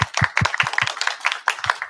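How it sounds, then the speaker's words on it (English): Audience at an academic optimization workshop applauding a colleague. The sound is a small group's sparse, uneven clapping, with individual claps distinct and fairly close. "let's start by giving an extra hint of applause to Alina"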